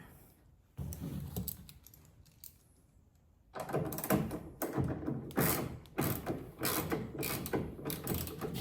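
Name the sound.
tightening bolts on Ford F150 taillight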